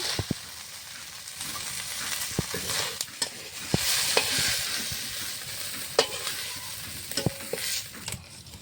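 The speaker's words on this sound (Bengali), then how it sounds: "মাছটা ভাজা হয়ে গেছে, লাল লাল করে ভেজে নিচ্ছি" Shrimp fry in hot oil in a wok with a constant crackling sizzle. Sharp scraping clicks from stirring recur throughout, and no voices are heard.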